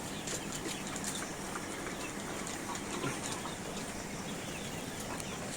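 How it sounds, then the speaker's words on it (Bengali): Live roasting chickens, not broilers, on a poultry farm, their clucks and soft wing flutters forming a steady, busy bed of fowl noise with no talk over it. "এগুলো সবই রোস্টের মুরগি, এগুলো কিন্তু ব্রয়লার মুরগি না"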